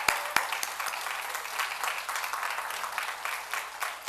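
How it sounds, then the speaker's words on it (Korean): A congregation at a church service claps for performers in steady, close, moderately loud applause. A couple of sharp knocks stand out at the start. "다시 한번 큰 박수 부탁드리겠습니다"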